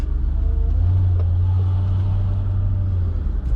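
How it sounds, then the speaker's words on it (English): A Mercedes-Benz CL55 AMG pulls away, its engine a deep, steady low rumble that holds loud and close throughout with no talk over it. "let's take it for a short spin"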